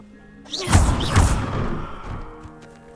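A fire spell cast in Hogwarts Legacy bursts with a loud whooshing crash and two heavy thuds, then fades into a rumbling tail.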